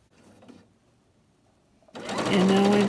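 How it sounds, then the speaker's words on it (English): Sewing machine stitching rows of quilt blocks together for a lemon star quilt, starting abruptly after a quiet stretch with low rustling, then running loud and steady with a high motor whine. "And now I'm sewing all of the rows together."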